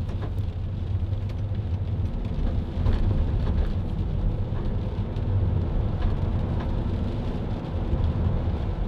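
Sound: rain falling during a drive in Preston

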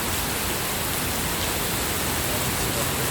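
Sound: rain falling

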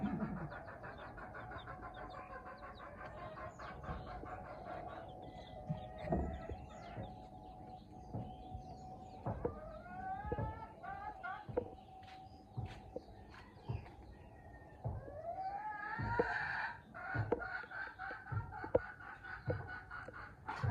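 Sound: chickens clucking in their coop

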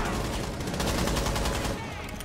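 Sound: gunfire in the video game Rainbow Six Siege

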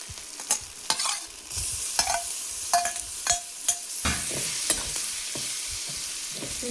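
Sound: prawns frying in black masala with onion and tomato

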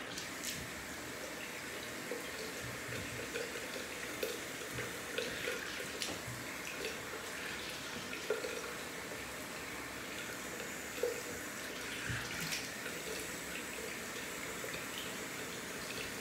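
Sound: water running while rinsing a razor wiper

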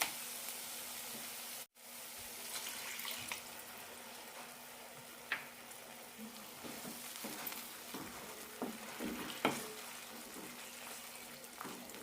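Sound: paneer kurma masala simmering with water added

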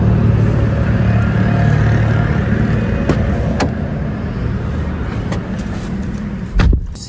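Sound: Tata Tiago EV electric car driving off after charging

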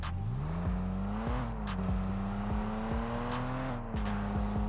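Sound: Ford 4x4 truck engine revving in video game Rocket League

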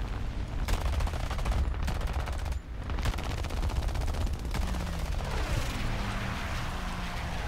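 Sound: machine gun fire in the video game War Thunder

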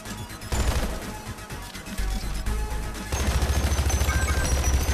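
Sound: AR-15 rifle gunfire in the video game Hypercharge Unboxed

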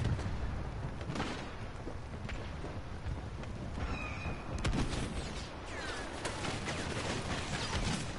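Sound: enemies shooting at the player in a video game

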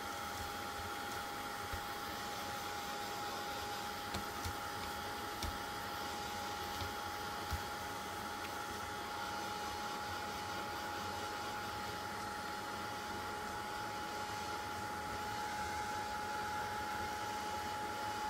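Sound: heat tool drying paper craft flowers

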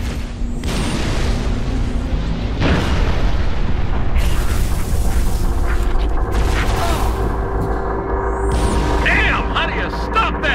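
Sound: artillery fire support strike exploding, Halo: Reach video game

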